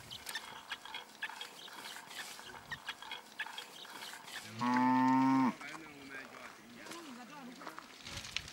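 Cattle of Himba herders in the Kaokoland desert give a single loud, drawn-out moo that stands out clearly over a documentary narrator's voice and ambient background.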